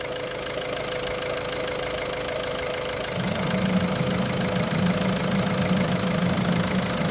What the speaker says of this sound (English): So it's sitting at idle without any load.